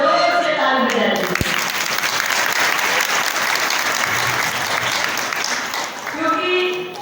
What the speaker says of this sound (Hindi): दोनों बाई जी के स्वागत में जरा जोर से ताली बजाइए